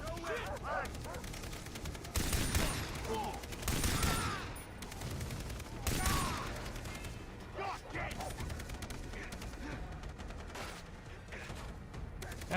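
Gunfire in the Far Cry 3 video game, a dense ongoing volley of rapid shots with louder bursts of blasts throughout, a mix of game sounds.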